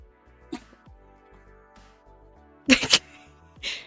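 A small snort, then a pair of sharp, explosive sneezes close by, followed by a softer puff, over a low steady hum.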